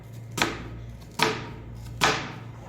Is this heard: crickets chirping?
no